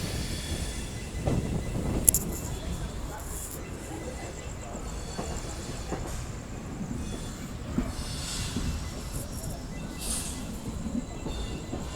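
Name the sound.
passenger train departing Mysuru and picking up speed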